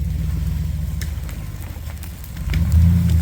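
Truck engine idles and rumbles at close range, pulling firewood out of a creek, with scattered knocks and clunks and a louder engine surge near the end.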